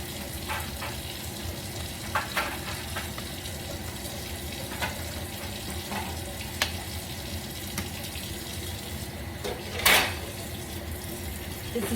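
Rustic potato and sausage soup simmering in a pot, a steady low bubbling and sizzling hiss with a few faint clinks and stirring taps, and no voices.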